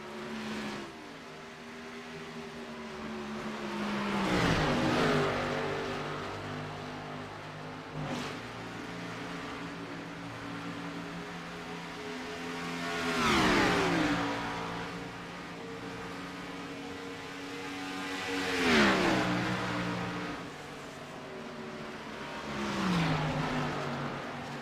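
A pack of three race cars runs on a circuit, engines swelling loudly as each pass comes near, with gear-shift pitch sweeps and falling Doppler drones, then fading between the passes.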